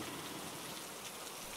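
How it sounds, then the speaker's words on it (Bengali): Steady rainfall hisses evenly, a dense constant wash of drops in a Bengali animated ghost story, fairly soft and unbroken. "বৃষ্টি হচ্ছে তো"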